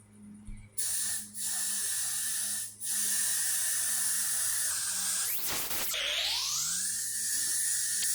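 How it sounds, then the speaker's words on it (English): Close bursts of adhesive spray hiss in short blasts onto a head, then one long continuous spray, with a sweeping tonal whoosh near the end. "I'm going to take my Got to Be Glued, and I'm about to spray this sucker down"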